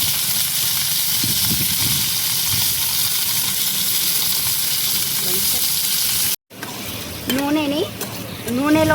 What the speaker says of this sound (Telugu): శుభ్రంగా కడిగి పెట్టుకున్న చికెన్ని వేసుకుందాం